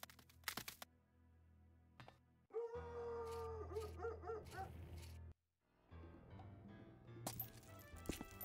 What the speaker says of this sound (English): Dog jumps in car, eats meat.